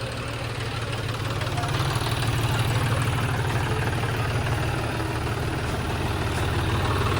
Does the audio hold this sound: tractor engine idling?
yes